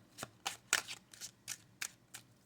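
A Kipper card deck is shuffled by hand: seven or eight crisp riffling bursts come in a loose, irregular rhythm, close and clear against a quiet room, with no talking.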